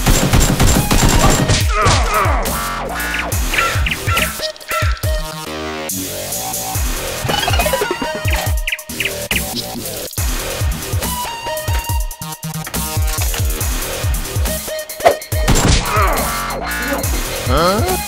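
Toy Nerf blasters firing in a staged Nerf war game with police and SEAL roles, a dense chaotic barrage of rapid pops and bursts running throughout, loud and busy with music-like layers and occasional shouting.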